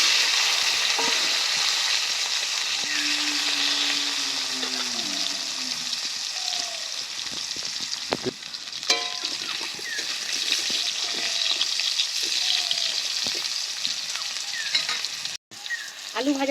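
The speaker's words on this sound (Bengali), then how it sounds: "কেটে রাখা আলুগুলো এখন আমি ভেজে নেব।" Cut potatoes fry in oil in a pan, a loud continuous sizzle with scattered crackles and stirring clatter, while faint tonal squeaks drift through the middle; no one talks.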